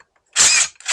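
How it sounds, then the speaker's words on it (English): Screws being backed out of an anchor windlass fitting on a Cdory boat with a power driver, one loud buzzing whir of about a third of a second, then a shorter second burst, close by with no talk. "Start by backing these screws out."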